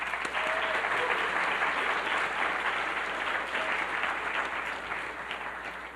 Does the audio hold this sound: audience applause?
yes